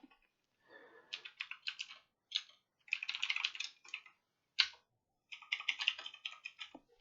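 Rapid typing on a computer keyboard, close and crisp, with irregular bursts of clicking keystrokes separated by short pauses, and no voices.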